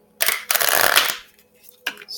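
Tarot cards shuffled by hand in a few quick riffling bursts, close and crisp, with a short pause before a final flutter.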